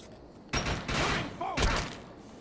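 Gunfire in the Defiance 2050 video game: two short bursts of rapid shots, each a dense crackling blast lasting about a third of a second, loud and close, with a brief voice between them.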